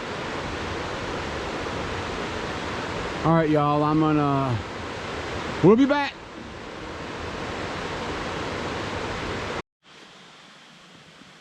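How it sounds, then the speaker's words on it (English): Small waterfalls cascade down the Chattooga River, a steady broadband rush of falling water heard close and continuous, with a person talking briefly over it partway through before the sound cuts to a quieter scene. "cascading, just tons of waterfalls, little waterfalls as it heads on down the Chattooga River"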